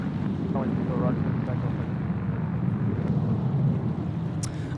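A UPS aircraft takes off at Sydney Airport, a steady distant engine rumble with brief voices over it.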